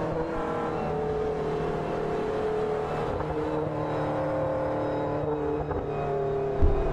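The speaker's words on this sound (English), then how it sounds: "speed limiter on that car sounds awesome from the outside" A GT race car engine at Silverstone holds a steady, droning note with harmonic layers while running on its pit speed limiter in a racing video game, heard loud and close, with a brief bump near the end.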